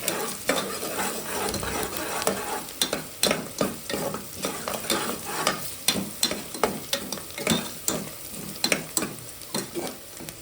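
Onions and chillies frying with turmeric, chilli powder and salt for a bachelor-style chicken curry, sizzling steadily while a spoon scrapes the pan in quick repeated strokes, close up with no talk.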